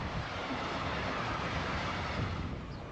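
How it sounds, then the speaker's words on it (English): A goods train rumbles steadily past at a station in northern France, a continuous broadband roar of wheels and cars with no pause over a few seconds. "One passing goods train later"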